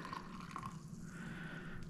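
Hot water poured steadily into a coffee filter for a pour-over brew, a continuous trickling and splashing stream with a faint drip, close and fairly quiet with no talking.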